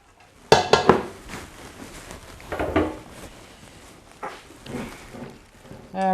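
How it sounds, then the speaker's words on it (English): Rice noodles for a tofu stir fry are stirred in a metal pan, giving a cluster of sharp utensil clinks and scrapes up front, then softer intermittent scraping and sizzling that continues to the end. "Let's give the noodles one more stir just to loosen them up."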